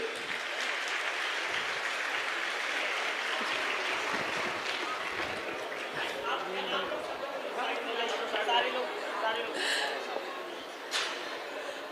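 A large crowd at a Sanatan religious gathering gives loud, sustained applause to welcome the mayor, a continuous wash of clapping with voices mixed in.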